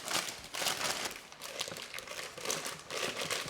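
Soft plastic crinkling and rustling as a plastic piping bag is handled close by, continuous with small bursts, no voices.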